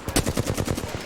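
Rapid automatic gunfire in an Xbox shooter rattles out close and loud, a quick string of about a dozen evenly spaced shots within a second.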